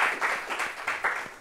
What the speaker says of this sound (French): Est-ce qu'on peut applaudir Frankem, s'il vous plaît